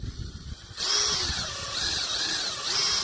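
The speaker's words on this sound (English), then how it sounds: "we're going to drill through both of these" A power drill whines steadily after a short quiet start, its pitch rising and dipping as it bites through a metal solar panel frame, loud and close.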